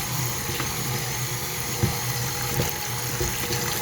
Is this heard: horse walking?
no